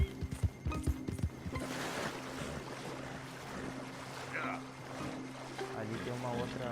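A horse wading through water in Red Dead Redemption 2, with splashing, sloshing movement and a few hoof knocks early on, over a steady watery backdrop while someone talks over part of it.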